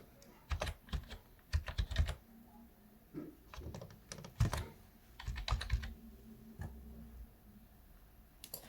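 Keys on a computer keyboard tapped in irregular bursts and short runs while a password is entered, close and fairly quiet with brief pauses between clusters of keystrokes.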